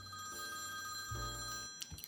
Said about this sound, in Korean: 진주가 전화를 받으니까 은채가 너무 놀란 거지.